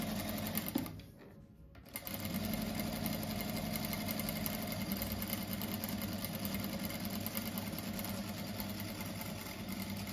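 A sewing machine stitches a seam joining fabric strips for a table runner, running steadily and loudly after a brief pause, with a continuous mechanical whir and needle clatter.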